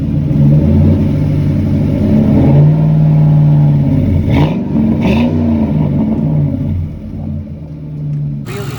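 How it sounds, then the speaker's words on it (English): A project car's newly installed engine revs hard in repeated rising and falling pulls, a loud, close, throaty drone that dips near the end before climbing again. "now we have this engine finally running in the car"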